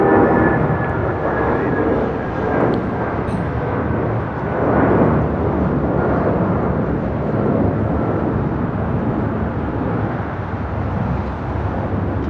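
An airliner takes off from runway 25 right at LAX, its engines producing a loud, sustained roar with a faint high whine layered over the broad rumble, holding steady throughout.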